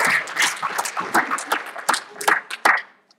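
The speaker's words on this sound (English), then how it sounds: "Big round of applause for Max." Applause breaks out for a student at a student government association meeting, a brief burst of many hands clapping unevenly at close range, with scattered louder claps that fade out at the end.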